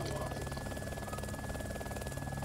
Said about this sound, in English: The helicopter's not working